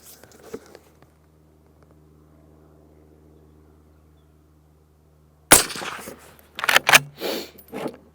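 A Browning Maral 4X rifle firing 165 grain express loads, one sharp loud report followed by a few further sharp cracks and handling noises, after a long quiet stretch with a low hum.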